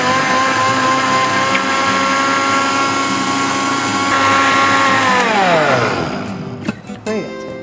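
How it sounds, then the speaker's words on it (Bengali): A Singer blender runs with a loud, steady motor whine, slowing and dropping in pitch near the end as it is switched off, followed by a few clattering knocks. "ব্লেন্ডার চালানোর সময় তুমি 30 সেকেন্ড করে আবার একটু অফ দিয়ে আবার 30 সেকেন্ড দাও"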